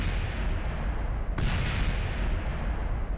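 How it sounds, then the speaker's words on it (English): In Kerbal Space Program, parts of a spaceship burst apart in a muffled boom that rises sharply out of a steady low rumble, one clear explosion midway through. "Don't worry about the explosions. Those are just bits of my spaceship falling apart."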